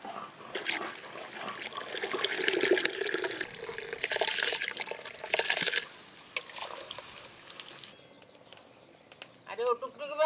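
Soaked, slightly swollen rice tipped into a pot of hot water makes a splashing, watery pour for about six seconds, then fades to a quieter background with faint chirps and small clinks.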